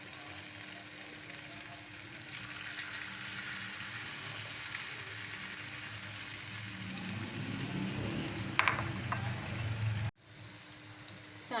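Potato balls sizzling and frying in hot oil, a steady crackling hiss that swells and grows busier near the end before cutting off abruptly, with no talking.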